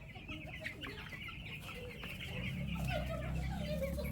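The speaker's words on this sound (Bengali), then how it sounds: "এগুলো হলো মুরগির বাচ্চা," Many chicks in a poultry house give overlapping high peeps and cheeps with a few clucks, close and constant over a low background rumble.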